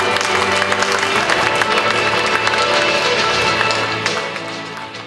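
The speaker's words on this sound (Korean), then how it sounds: "원정이 되어주신 이성찬스럽게 다시 한번 큰 박수 부탁드리겠습니다" Large audience at a Daegu city party chapter political gathering applauding steadily and loudly throughout, then tapering off near the end.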